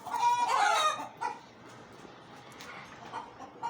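Laying hens clucking in a backyard coop in Saudi Arabia, a loud cluster of close clucks in the first second, then softer scattered calls and clucks from the flock.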